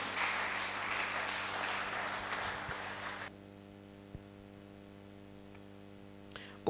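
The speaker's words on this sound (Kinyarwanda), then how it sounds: "Reka tuyikomere amashyi menshi." Audience applause from a congregation, a dense wash of clapping for about three seconds that cuts off abruptly into a quiet hum with a couple of faint knocks.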